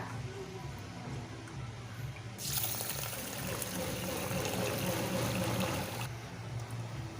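Rice mixed with assorted lentils is rinsed in water for masale bhaat, a soft trickling and sloshing that swells into a louder, steady gush of pouring water for several seconds before easing off.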